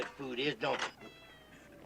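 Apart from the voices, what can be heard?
cat meowing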